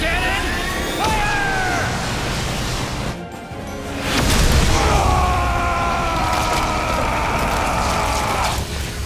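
A heavy cannon blast in the video game The Wonderful 101: Remastered erupts midway and rolls into a sustained roaring, rumbling wash of noise with a high droning tone, loud and close, no voices.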